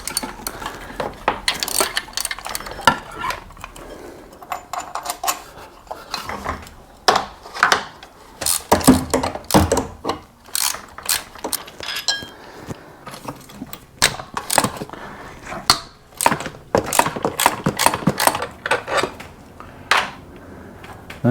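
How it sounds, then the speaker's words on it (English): Socket wrench working loose a part on a Dakota truck during a broken shock replacement, irregular metallic clicks, clanks and rattles in scattered bursts, close by, no speech. "So what I'm going to do is I'm going to get a socket wrench."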